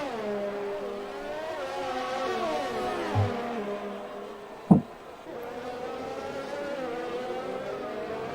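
Formula 1 cars racing in Canada, engines droning with rising and falling pitch as they pass, one car overtaking, with a brief sharp thump midway.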